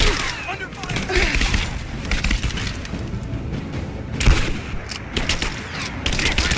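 Dense video-game gunfire from Rise of the Tomb Raider: sustained fusillades of rapid shots mixed with heavier booms and thuds, loud and continuous throughout, with shouting voices over the combat.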